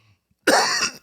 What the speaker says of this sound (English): I had a coughing fit there.